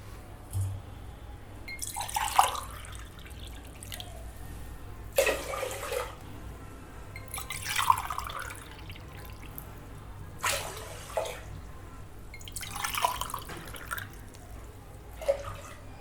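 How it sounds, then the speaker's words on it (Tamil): Water is poured into a pot for cooking rice and dal for ven pongal, six cups in all, in several separate splashing bursts with pauses between them and a faint steady hum underneath. "2 கப்புக்கும் சேர்த்து 6 கப் தண்ணி ஊற்றுறேன்"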